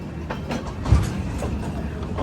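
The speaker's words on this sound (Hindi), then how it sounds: "तो भाई बरेली जंक्शन ट्रेन हमारी पहुंच रही है।" Inside the Shramjeevi Express as it pulls into Bareilly Junction: a steady, close rumble of rolling carriages with rhythmic wheel clatter and a brief heavier clunk, continuous throughout.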